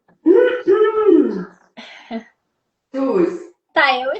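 Two people coughing and clearing their throats in close succession, loud and near, with short raspy bursts separated by brief pauses, one ending in a hoarse voiced rasp.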